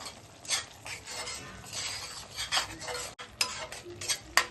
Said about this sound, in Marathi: अजून 1-2 मिनिटं परतूया छान.